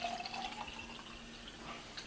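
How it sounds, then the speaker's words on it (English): Filtered water is poured into a small micro thermos container, making a faint steady trickle and splash that fills the whole moment, quiet and close with no speech. "You take your water, you fill the rest of it up with water"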